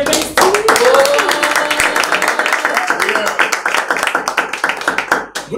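An audience claps in welcome for Reverend Steve at a church gathering, a loud burst of dense applause sustained for several seconds with voices mixed in, then tapering off.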